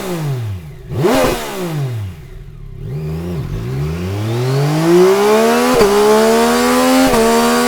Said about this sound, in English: Next is the MT-09's inline-3 engine.